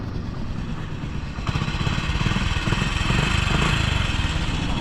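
A Hero Splendor Pro 100cc motorcycle idles steadily after a cold start, a close, even engine chug with a slight rise in level partway through.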